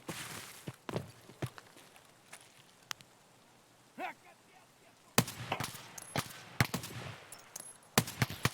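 Gunfire in Escape from Tarkov on the Shoreline map, with a G28 rifle involved: sharp broadband shots, a few isolated early, then clustered bursts near the end, over quiet ambient noise.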